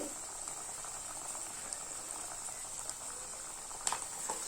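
Masal vada, lentil fritters pressed flat by hand, frying in oil over a medium flame, giving a steady bubbling sizzle throughout with a faint tap near the end.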